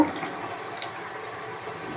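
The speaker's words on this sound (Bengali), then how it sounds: "এবার আমি গরম পানি দিব" Hot water poured into a cooking pot of beef and potatoes, a steady close rushing splash running throughout with no talk.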